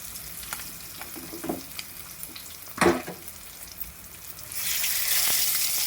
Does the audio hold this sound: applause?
no